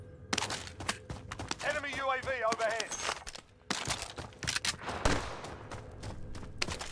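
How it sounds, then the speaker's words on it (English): Gunfire in the shooter game Warzone comes as sharp, rapid bursts and single shots, some close and loud, interspersed with footsteps while a player talks over the action. "Someone trying to shoot at me?"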